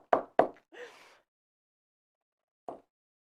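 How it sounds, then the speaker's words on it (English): A seam whacker strikes the folded seam allowance of a jelly vinyl zipper pouch, giving two quick, close, sharp knocks, then a short rustle and one more knock after a pause. There is no speech. "I'm gonna mash that seam allowance down. I'm gonna hit it with my whacker."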